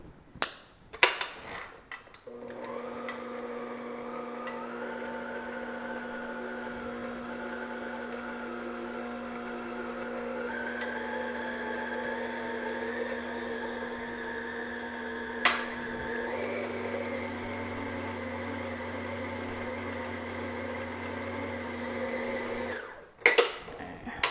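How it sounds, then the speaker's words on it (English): Electric stand mixer beating sugar cookie dough with flour, a steady motor whir with paddle rumble running continuously for about twenty seconds, with a brief clink midway and start and stop knocks at either end. "be careful when you start the mixer up."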